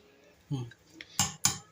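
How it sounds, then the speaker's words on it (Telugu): A masher mashing cooked tomato dal in a metal pot gives a few sharp, close clanks and knocks, with faint voices in the background. "పప్పు గుత్తుతో కొంచెం రుబ్బుకుందాం"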